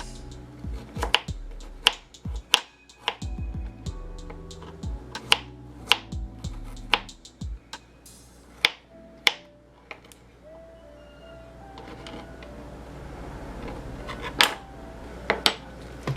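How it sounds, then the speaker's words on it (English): A knife chops ginger root on a cutting board in sharp, irregular taps, close and fairly quiet, with brief pauses between bursts of cuts. "we're just going to cut our ginger root into pieces"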